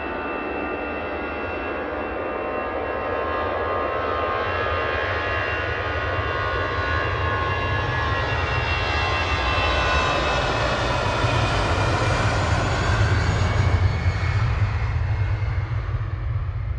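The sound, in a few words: Airbus A380 jet taking off at full power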